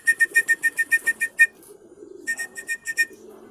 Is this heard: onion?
no